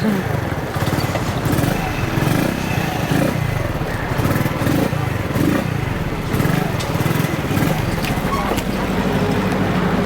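A stalling motorcycle engine runs roughly and steadily throughout, a continuous low rumble with some voices faintly underneath.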